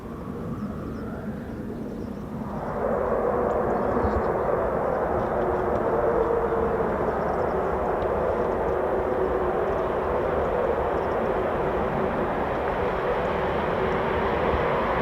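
Eurofighter Typhoon FGR4 fighter jet of 11 Fighter Squadron, RAF, a rising roar that swells to a loud, steady jet rumble and holds for the rest of the stretch, with no voices.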